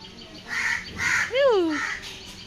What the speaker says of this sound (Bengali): বাবা কাকটা যে ভয় পাচ্ছে